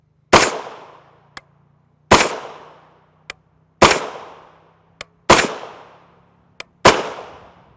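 Five evenly spaced shots from an 8.6 Blackout rifle with a 16-inch Faxon barrel, each a sharp loud crack with a fast-decaying tail, followed by a faint distant ping from a struck target.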